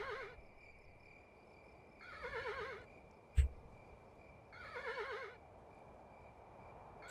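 Horse neighing in the video game Kingdom, three whinnying calls spread across the clip with a sharp thump between them, set over a steady quiet ambient hum.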